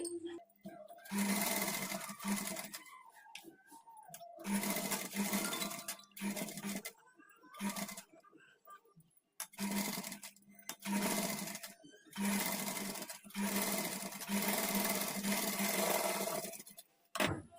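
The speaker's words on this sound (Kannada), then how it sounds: "ಈ ಲೈನಿಂಗ್ ಮೇಲೆ ಎಜ್ಜಿಗೆ ಒಂದು ಕಿನಾರಿ ಸ್ಟಿಚ್ ಹಾಕ್ಕೊಳ್ಬೇಕು" A sewing machine stitches an edge on a blouse lining in several loud, steady runs of rapid mechanical whirring, separated by short pauses, close by with no talking.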